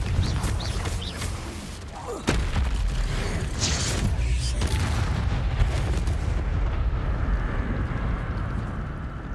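Fiery blast spells go off in Hogwarts Legacy, with a sharp boom near the start and rumbling explosive bursts over a dense, continuous layer of game sound.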